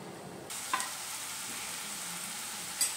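Tomatoes with salt sizzle in a pan, a steady hiss that starts abruptly and holds at moderate loudness, with a couple of light utensil clicks and no talking.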